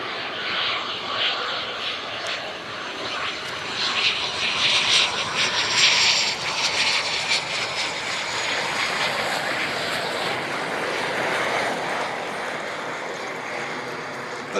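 A Eurofighter Typhoon jet at an airshow roars loudly as it lands, a broad sustained engine rumble with a hissing high whine that swells around the middle and then holds steady.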